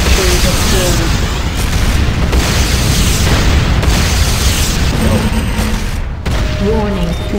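Structures explode in the Renegade multiplayer video game, with heavy booms and crackling bursts filling the scene loudly and continuously alongside gunfire, while an announcer voice speaks over it.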